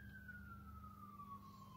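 A siren wails faintly in the distance, one long tone slowly falling in pitch over a low steady hum.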